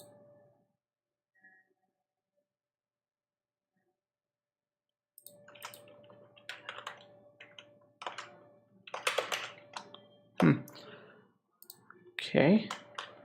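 Typing and clicking on a computer keyboard while working in a browser's developer console: after a quiet stretch, a flurry of close key taps and clicks arrives in irregular bursts, some sharper and louder strokes standing out.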